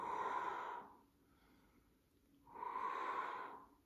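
Two long, forceful exhalations during a floor strength exercise, each lasting just under a second, separated by a quiet pause; close and fairly loud, with no talking.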